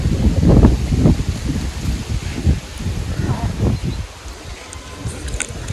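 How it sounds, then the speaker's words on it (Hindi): Outdoor wind blowing through trees near cotton and mango trees, with gusty rustling and microphone buffeting that swell and fade unevenly, fairly loud, settling into a softer whoosh toward the end. "मस्त हवा चल रही है।"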